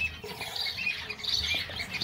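Several birds squawk and chirp inside an enclosed aviary where chicks are being raised, a steady busy chorus of mid-distance calls with no talking.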